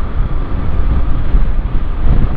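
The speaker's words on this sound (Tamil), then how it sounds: "அந்த அளவுக்கு காற்று அடிக்குது." Strong wind roaring over a motorcycle on the Trichy Road between Somanur and Sulur near Coimbatore, a loud, steady broadband rush and buffeting that fills the whole clip with no speech.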